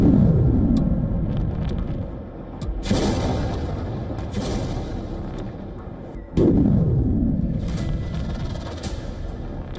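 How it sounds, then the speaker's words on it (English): Missile strikes over Kyiv at night: deep booming explosions with long rolling rumbles, two heavy blasts a few seconds apart over a constant low roar, loud and unaccompanied by speech. "Streets lit up in a split second as missiles streaked over Kyiv, leaving trails of smoke and fear."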